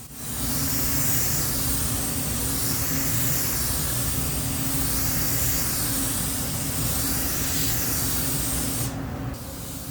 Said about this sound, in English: I'm spraying at about 26 psi and full fan